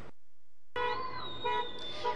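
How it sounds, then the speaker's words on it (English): Passing cars honk at a nighttime street protest in Oakland, with sustained horn tones and short toots mixed with traffic noise, fairly close, after a brief silent gap. "there are a lot of cars that are going through, as you can hear right here, that are honking in support of the protesters"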